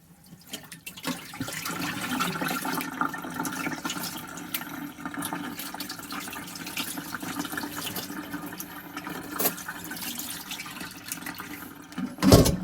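Water is poured out of a container after washing pork bung, a continuous splashing, gurgling flow lasting several seconds at close range, ending with a brief clatter.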